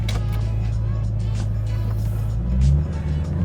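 A 2003 Corvette C5 Z06 cruises along with a steady low engine drone and road rumble heard from inside, swelling briefly toward the end.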